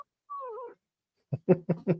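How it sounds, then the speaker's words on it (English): A cat lets out a drawn-out, wavering yowl, then after a pause gives four quick, sharp, hissing or spitting bursts close by, with no talk. "there's a cat. She's attacking me."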